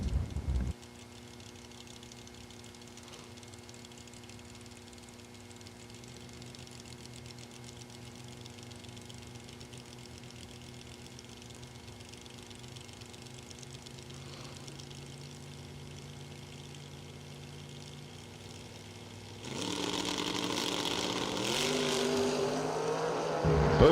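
First-generation Camaro drag race cars idle with a steady, droning engine hum at a strip, then the engines rise sharply into a loud, rough roar near the end, heard without talk.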